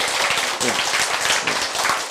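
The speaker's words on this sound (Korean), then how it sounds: "실수할수록 박수 치시기 바랍니다" An audience claps steadily throughout, a dense patter of many hands, with a voice briefly audible underneath.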